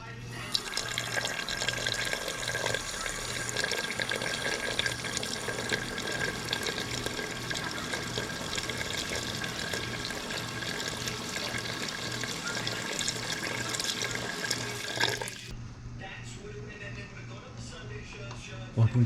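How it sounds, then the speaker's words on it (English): Water running and splashing steadily into a pot of beef stock simmering for demi-glace, a continuous close pour lasting about fifteen seconds before stopping, leaving a quieter kitchen background. "And we're going to add just a little bit of water."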